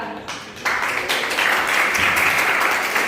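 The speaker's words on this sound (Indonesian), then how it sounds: "tepuk tangan untuk Adelia." A class claps for a student in a civics lesson, the applause starting abruptly after a brief quiet moment and continuing as a dense, even patter of many hands at fairly close range until it cuts off.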